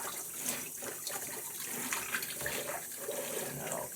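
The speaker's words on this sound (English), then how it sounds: "and then I usually do two rinses" Food rinsed under running tap water gives a steady, close rush of water that continues unbroken for a few seconds.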